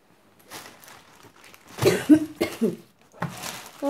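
Repeated coughing from a person who is sick with a cough in a very cold home, several harsh bursts close to the listener with short gaps between them, and no speech.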